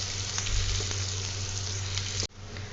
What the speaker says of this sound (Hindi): इसको थोड़ा सा हम 3-4 मिनट सॉटे करेंगे